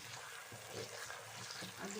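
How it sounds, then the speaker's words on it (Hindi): Small tomato frying in a pan for moong masoor dal, a steady soft sizzle throughout with faint stirring scrapes. "अब इसमें हम डालेंगे एक छोटा सा टमाटर। इसको भूनेंगे अच्छी तरह।"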